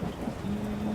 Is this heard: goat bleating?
no